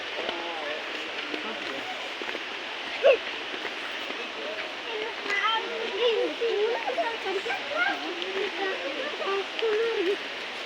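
Jalagamparai waterfall flows in the distance as a steady, broad rushing hiss. People talk over the water throughout.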